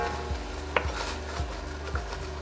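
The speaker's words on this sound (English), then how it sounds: "what I'm kind of doing with the spoon is scraping the bottom of the pans with that liquid" A spoon scrapes the bottom of a soup pan holding liquid, pumpkin chicken soup with okra, in four or five evenly spaced strokes over a low, steady background hum.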